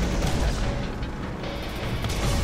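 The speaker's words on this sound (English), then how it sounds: "Who's shooting at me?" Rapid gunfire crackles through a firefight in the video game Borderlands, sustained shots and booms layered densely throughout with no talking.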